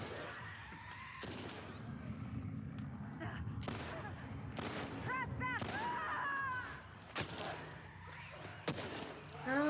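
Scattered gunshots ring out in The Last of Us Part II as enemies are fired on, sharp cracks spaced irregularly among shouting voices and screeching cries, fairly quiet overall.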